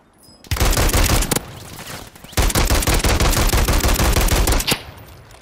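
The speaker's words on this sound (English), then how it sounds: "Guy's getting shot in the back." Loud, close automatic gunfire in the video game Warzone 3 rattles in two long sustained bursts, separated by a brief pause and ending abruptly.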